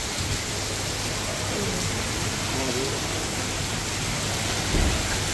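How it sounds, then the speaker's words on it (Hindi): Heavy rain from a storm in Murree hisses loudly and continuously, with a voice faintly audible beneath it and a brief low thump near the end. "देखे ये कितनी खतरनाक बारिश हो रही है।"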